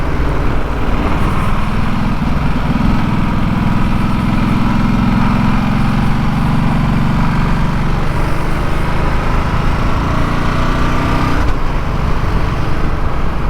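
A Ducati Multistrada being ridden around a roundabout, its engine a steady loud drone with wind rush, a rising whine mid-ride and a slight shift in tone later, no talking.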